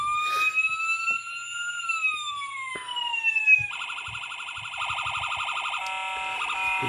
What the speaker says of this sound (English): siren on the bottom. Press it first time and it's going to go through a few different sounds on its own.